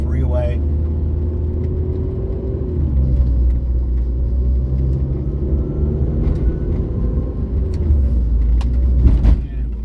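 A stiff, bumpy vehicle drives along the 405 freeway in Irvine, California, with a constant low road rumble and engine drone inside the cabin, plus passing traffic swells and a few small knocks.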